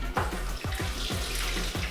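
Black chai tea pours slowly from a jug back into a Thermomix, a steady liquid trickle and splash with soft gurgling pulses, close and fairly quiet, with no talk.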